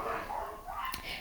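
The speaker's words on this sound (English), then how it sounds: "maybe you can hear my dogs, they're barking outside." Dogs bark outdoors, heard faintly and at a distance beneath a person talking indoors in a short, quiet stretch.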